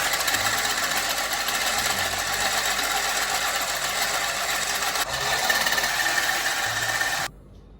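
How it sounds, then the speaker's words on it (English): An electric beater whisks a mixture in a steady, loud whirring drone that runs unbroken for about seven seconds, then cuts off abruptly. "I'll be like beating this with electric beater."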